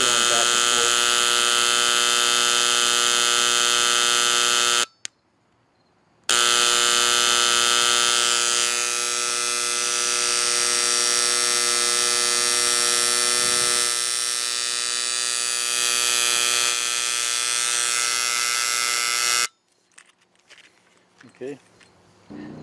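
An electric engraver with a carbide tip buzzes steadily with a high, tonal whine, cutting off briefly before restarting and then stopping near the end, followed by faint handling sounds.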